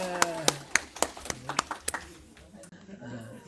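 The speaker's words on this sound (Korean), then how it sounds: "박수 한번." Church congregation clapping during a Sunday service, about a dozen distinct rhythmic claps in quick succession that trail off, with voices speaking over and after them.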